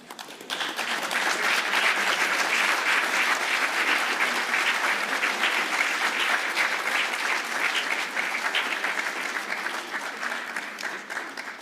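Large conference audience at an African engineering event applauding female engineers standing in the room, sustained even clapping from many hands throughout, starting abruptly and holding steady.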